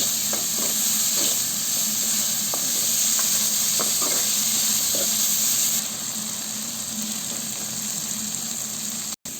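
Tomatoes sautéing in a pan for manathakkali vathal kulambu, a steady hiss of frying with occasional soft stirring taps, ending in a brief clunk.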